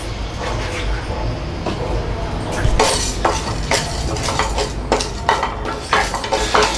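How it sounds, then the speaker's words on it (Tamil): Garlic cloves, cinnamon, chana dal and sesame seeds roast in a pan for Nellore tomato rice, with a spoon clinking and scraping against the metal in repeated sharp knocks over a low background hiss. "3 பல் பூண்டு, பட்டை, கடலைப்பருப்பு, எள்ளு, இது எல்லாத்தையுமே நம்ம வந்து நல்லா வறுத்துக்கலாம்"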